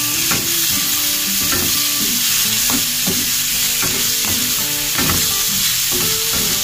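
Meat frying and being stirred in a pan for a Filipino mung bean dish, a loud constant sizzle broken by repeated scraping stirs, close up with no talk.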